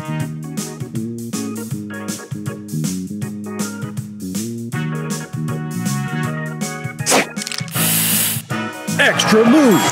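A spray booster effect fires in the Match Masters mobile game as a sharp burst of hissing spray near the end, over bouncy game music and a voice calling out.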